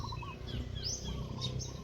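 Small wild birds, house sparrows among them, chirp and tweet near a Philippine farm in a short, busy burst of overlapping calls with no talking.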